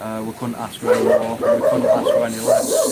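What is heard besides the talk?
dogs barking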